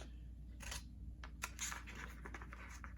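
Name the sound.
scissors cutting paper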